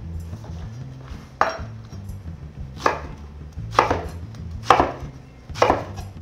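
Leek and carrot are chopped with a knife on a board, five or six distinct sharp chops at uneven intervals, close and clear over faint background hum.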